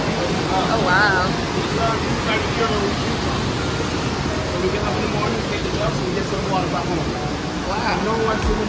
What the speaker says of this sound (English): So we about to look at the waterfall.